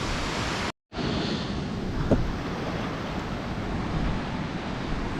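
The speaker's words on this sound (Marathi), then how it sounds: "पाण्याचा आवाज ऐकायला एवढं बरं वाटतंय तुम्ही पण ऐका थोड्या वेळ" Continuous surf rolling onto a quiet Konkan beach in the evening, a steady broadband wash of breaking sea waves with a brief cut near the start, no talk.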